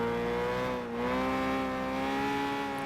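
A Ferrari engine revs steadily in the Gran Turismo 5 racing game, holding a sustained harmonic drone for about three seconds with a brief dip near one second and no talk over it.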